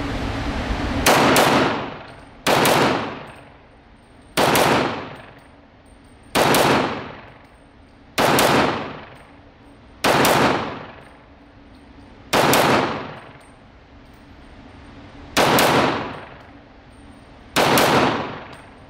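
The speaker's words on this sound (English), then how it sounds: "We'll do some double taps on this gun and see how it returns." Double-tap pistol shots from an Atlas Gunworks 2011 Nemesis handgun, nine loud sharp reports spaced about two seconds apart, each with a ringing decay, close and alone with no talk.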